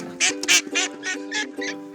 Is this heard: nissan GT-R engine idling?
no